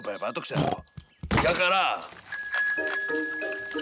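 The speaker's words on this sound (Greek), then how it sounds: "Και αυτό είναι το κουδούνι." A bright bicycle bell rings a few times, chiming over cheerful voices talking in the foreground.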